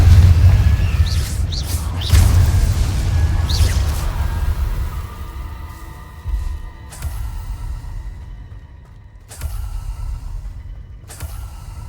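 A Confringo fire spell fires off in Hogwarts Legacy, a loud whooshing burst with a deep rumble, followed by a few more sharp magical impacts and swishes within the game's combat.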